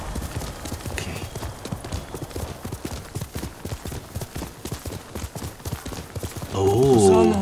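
Rhythmic horse hooves clip-clop in a steady gallop through the video game Ghost of Tsushima, the beats close and fairly loud, ending in a brief horse whinny.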